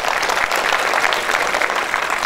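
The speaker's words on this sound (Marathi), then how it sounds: "गोसाई साहेबांसाठी टाळ्या होऊन जाऊ द्यापर्यंत" Steady, dense applause from an audience at a Panvel municipal corporation gathering, honoring a doctor named Gosai, sustained and fairly loud throughout with no pause.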